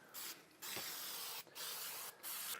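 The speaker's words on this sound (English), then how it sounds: "So we got a spray down here," Spray paint hisses onto a canvas in four bursts of roughly half a second each, with short gaps between them. The bursts are close and bright, with no talking.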